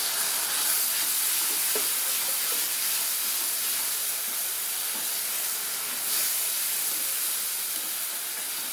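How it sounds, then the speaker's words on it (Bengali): Ground tomato paste added to onions already fried until reddish, giving a dense, continuous steamy hiss and sizzle that holds steady for several seconds with no voices. "এবার আমি বেটে রাখা টমেটোটা দিয়ে দেবো"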